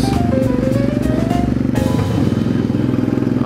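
Yamaha DragStar 650cc motorcycle engine running low on fuel, idling close by with an uneven, sputtering beat that stumbles and falters, its rough throb loud and continuous.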